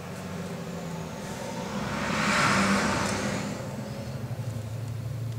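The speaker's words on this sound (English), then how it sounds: "You can hear the big trucks coming next to my house." A big truck passes on the road beside a house, its engine rumble swelling to a broad roar near the middle and then fading, heard from indoors over a steady low hum.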